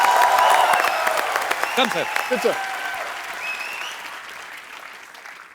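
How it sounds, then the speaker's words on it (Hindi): Loud studio audience applause on The Kapil Sharma Show, a dense clapping wash that slowly fades, with someone speaking briefly over it partway through. "जोरदार तालियां यार, जोरदार."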